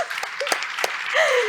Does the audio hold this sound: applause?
yes